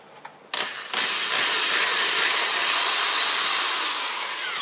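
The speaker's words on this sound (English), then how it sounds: "that's where we're going to drill an 11/32 hole" A power drill spins up and bores an 11/32 hole in a Honda Pioneer door panel, with a steady loud whine after a few brief clicks.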